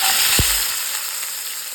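Cashew nuts sizzle steadily in hot oil in a pan, a constant bright crackle with one brief low knock near the start.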